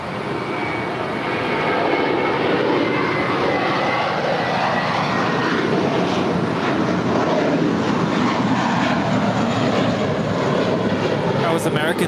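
An American Airlines jet departs LAX for New York, a loud, sustained engine roar with broadband rumble and hiss holding strong throughout, close by and alone.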